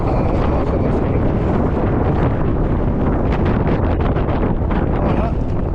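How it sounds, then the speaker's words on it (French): Steady wind buffeting the microphone on a road in Spain, a loud continuous roar that fills the whole stretch without a break. "Il y a un petit vent"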